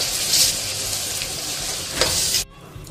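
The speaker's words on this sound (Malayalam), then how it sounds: "ഈ സ്റ്റേജിൽ സവാള പേസ്റ്റ് ചേർക്കാം." Onion paste hits hot oil in a frying pan for a mint chicken curry, a loud, close, steady sizzle with stirring that cuts off abruptly near the end.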